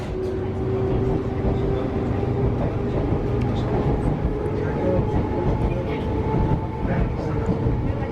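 Viva Rail train rolling along non-welded track toward Bedford, a steady, moderate interior rumble with a low hum held throughout, heard alone with no voices.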